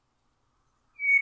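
A hermit thrush sings a single clear, flute-like whistled note that begins after about a second of silence, close and sustained to the end.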